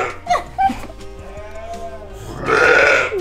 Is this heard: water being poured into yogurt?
no